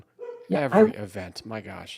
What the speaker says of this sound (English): you could probably hear my dog barking in the background.